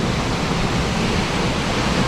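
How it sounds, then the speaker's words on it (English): Waterfall spray at the foot of a long hike in Khao Yai National Park in Thailand, heard as a steady, broadband rushing hiss that stays loud and even throughout, with no voices. "the spray from the waterfall"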